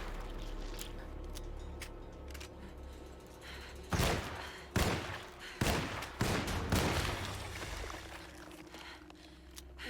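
Gunfire rings out in the survival horror game Alone in the Dark (2024) as several loud, sharp shots crack at uneven intervals over a low ambient rumble.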